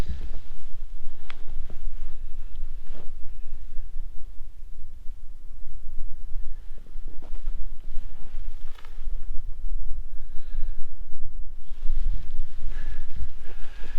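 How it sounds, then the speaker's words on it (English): Continuous gusty wind buffeting the microphone, a rough low rumble with fluctuating intensity and occasional faint rustling. "It's pretty windy out."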